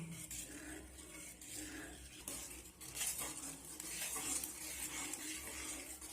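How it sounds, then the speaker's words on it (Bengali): A spoon stirs mango puree thinned with water in a pot, scraping and clinking softly against the metal in a continuous, fairly quiet motion with no voices. "এখন আমি এইভাবে অনবরত নাড়তে থাকবো।"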